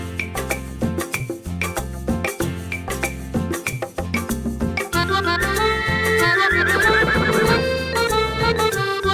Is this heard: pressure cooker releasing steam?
no